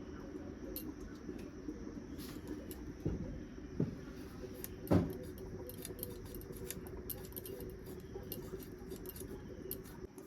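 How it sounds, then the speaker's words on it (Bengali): Potatoes being cut into long, medium-sized pieces with a knife for a fish curry, giving a few soft, close taps and chops against a steady faint background hiss. "এখন আমি আলু কাটছি, ঝিঙে কাটা হয়ে গেছে।"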